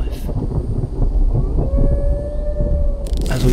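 Rumbling thunder in the survival video game The Infected rolls low and heavy beneath steady game ambience, with a tonal whine rising through the middle and a sharp burst near the end.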